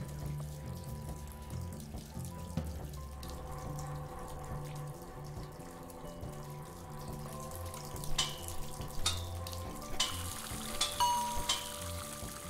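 Water runs from a tap into a sink inside a hotel room in a video game, a continuous splashing flow with some tonal hum, building to brighter clattering spurts toward the end, no talk.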